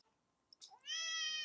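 A pet cat lets out a single loud, drawn-out meow close by, after a couple of faint soft sounds in a quiet room.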